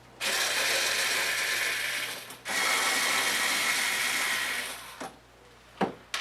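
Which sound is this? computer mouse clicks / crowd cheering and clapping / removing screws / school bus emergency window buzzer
removing screws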